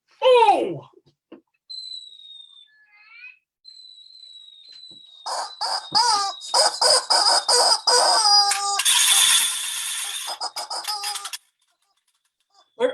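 A rooster crows as a chicken-alert sound effect, followed by electronic beeping tones and a rapid run of loud clucking, squawking bursts, then silence.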